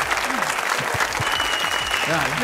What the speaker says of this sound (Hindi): आपकी भरपूर तालियों में स्टेज पर बुला रहा हूं